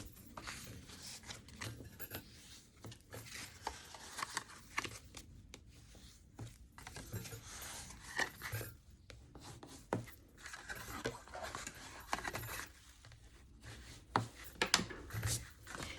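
Paper being creased and folded into a craft piece, producing soft, irregular rubbing and scraping strokes at close range, quiet and intermittent with no talk.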